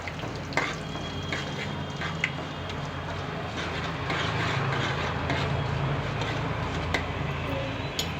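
Tempering spices sizzle and crackle steadily in hot oil, with a few sharp pops and the occasional scrape of stirring.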